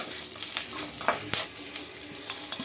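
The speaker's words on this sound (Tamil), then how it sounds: "அடுத்ததாக வரமிளகாய் கருவேப்பிலையும் இதுலேயே போட்டு வணக்கிக்கோங்க" Dried red chilies and curry leaves sizzle and crackle in hot oil for a chayote chutney, with steady frying hiss and scattered scraping stir strokes throughout, close and without voices.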